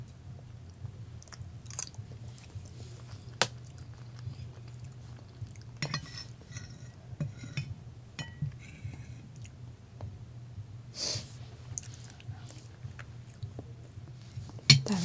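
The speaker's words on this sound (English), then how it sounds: "I love tasting the snacks." Indian snacks eaten up close for ASMR, with wet chewing, biting and occasional crunches coming in irregular bursts, plus faint clinks of cutlery or dishes, no talking and a low steady hum underneath.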